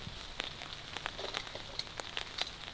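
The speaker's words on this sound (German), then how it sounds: "es regnet. Man hört das." Rain falls at a campsite during an overnight outing, a soft continuous patter with scattered sharper drops ticking on nearby surfaces, fairly faint and close.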